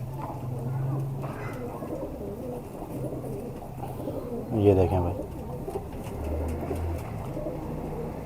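Pigeons coo in low, throaty bursts, several soft calls spread across a few seconds. They are close by and fairly quiet, and someone talks briefly over them.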